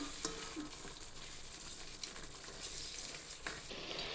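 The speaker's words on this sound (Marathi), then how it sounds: "आपण त्यात कूट टाकतो आपण आता मिक्स करून घेऊ छानपैकी" Eggplant bhaji with crushed peanut powder stirred in a pan, a soft steady sizzle under scattered scraping clicks of a spoon against the metal, fairly quiet and close.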